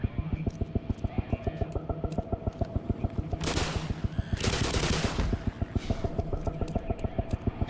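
Rapid bursts of video game gunfire, including shots aimed into the air, rattle out in a fast, steady rhythm over a pulsing game soundtrack, with two louder noisy surges in the middle.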